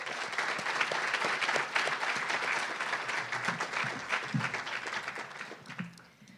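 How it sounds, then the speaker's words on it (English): An evening audience at a women-in-STEM forum gives the event sponsors a round of applause, with dense, sustained clapping from a roomful of people that fades near the end. "Let's give all of our sponsors a round of applause."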